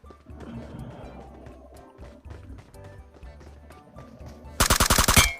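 A rapid burst of automatic gunfire erupts loudly near the end in PUBG Mobile, following quieter in-game movement and background sounds.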